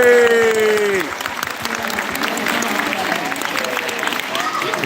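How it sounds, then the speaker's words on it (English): An outdoor crowd at a live display applauds Arthur, the clapping steady and spread out under an announcer's trailing voice at the start, then continuing on its own with a few scattered voices. "give him a big round of applause"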